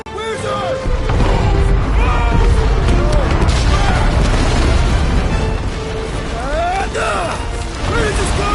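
Set charges blow in a video game, a loud rumbling explosion with crashing debris and booming bursts that continue for several seconds, with frantic voices and scattered effects over the blast.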